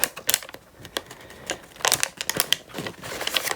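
A sheet of paper being folded into an origami peacock, giving a few crisp crinkles and sharp creasing rustles in short bursts, close and fairly quiet, with no talking.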